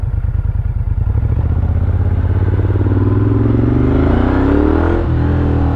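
A Moto Guzzi 1200 Griso SE motorcycle engine rumbles loudly and close, its deep throb rising in pitch as it accelerates, then easing off near the end.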